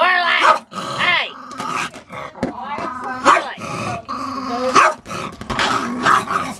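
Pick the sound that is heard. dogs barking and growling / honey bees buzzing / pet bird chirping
dogs barking and growling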